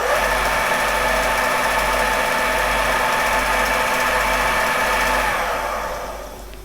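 Creed 7B Mark 1 teleprinter motor switched back on, a loud steady mechanical whir and hum that runs continuously before winding down and fading near the end.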